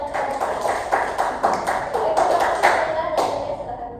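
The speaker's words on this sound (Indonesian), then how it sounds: "Tepuk tangan ya" A small group claps together in a classroom during a student career-choice session, a steady patter of hands lasting a few seconds before fading out, with some talk underneath.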